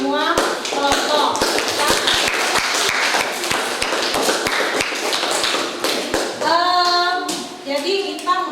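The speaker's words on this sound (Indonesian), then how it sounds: "sekali lagi kita tepuk tangan untuk semua kelompok" A class in an Indonesian school lesson claps for all the presentation groups, a dense patter of hand taps that runs steadily throughout with voices and shuffling mixed in.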